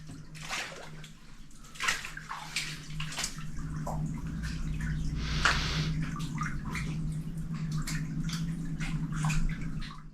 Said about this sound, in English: There must be a waterfall or something further back that I'm hearing.